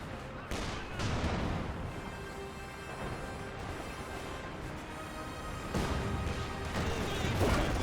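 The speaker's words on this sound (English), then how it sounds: "Obsassin firing away. We do have a 55 caliber sniper on the field." In Company of Heroes 2, a .55 caliber sniper rifle fires a few sharp, spaced cracks amid continuous battlefield rumble, with a commentator talking over the action.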